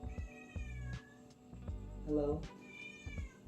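A cat meows several times at close range, drawn-out tonal cries with a whiny caterwauling edge, while a person speaks briefly over them.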